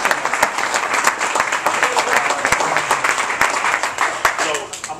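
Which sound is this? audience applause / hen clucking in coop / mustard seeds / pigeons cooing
audience applause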